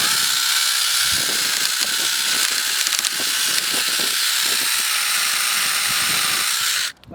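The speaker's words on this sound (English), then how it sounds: "This is the handle saw, and you can use this function." Kingson 10.8V cordless pruner handle saw running steadily, a loud continuous high motor whine with a buzzing mechanical rattle that holds for about seven seconds before cutting off abruptly at the end.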